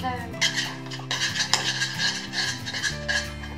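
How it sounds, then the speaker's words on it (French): A utensil scrapes and clinks steadily around a bowl of chocolate cake batter, close and continuous, with faint music playing underneath. "c'est Noémie qui va mélanger"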